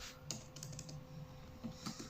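Someone types C++ code on a computer keyboard, a quiet patter of close keystrokes with a few louder taps and brief pauses, alone with no speech.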